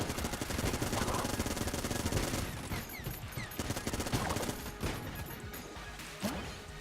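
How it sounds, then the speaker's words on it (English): A Gatling gun firing in Enter the Gungeon, a dense rapid stream of shots over busy game music and effects, fairly faint overall. "the combo here, by the way, of the wings plus the Gatling gun makes the Gatling gun have more knockback"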